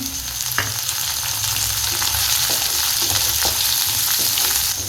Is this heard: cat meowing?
no